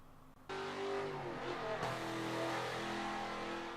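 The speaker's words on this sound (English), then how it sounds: "The 4th car to go around the Sonoma Grand Prix circuit is our reigning champion car, the 1970 Dodge Coronet Super B." A 1970 Dodge Coronet Super B muscle car races the Sonoma Grand Prix circuit in Forza 7, its engine bursting in loudly and holding a steady, heavy drone.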